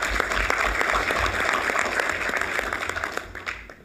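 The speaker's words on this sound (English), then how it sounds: "you really should applaud" Audience applause at a university board of trustees meeting, a steady dense clatter of many hands clapping for about four seconds before tapering off at the end, with no speech over it.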